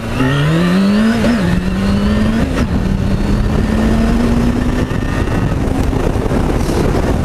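A motorcycle engine revs hard and holds a high, steadily climbing pitch as it accelerates for a wheelie, loud and close throughout with no talking.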